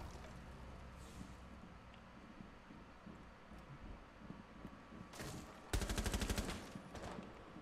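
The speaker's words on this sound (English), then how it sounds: "Are my teammates shooting each other?" Gunfire in the video game Rainbow Six Siege: faint scattered shots through most of the stretch, then a sharp rapid burst of automatic fire near the end, standing out clearly above a quiet background.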